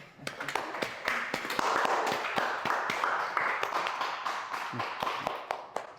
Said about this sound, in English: Can we get some applause?